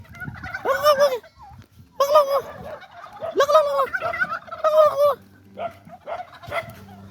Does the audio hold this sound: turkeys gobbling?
yes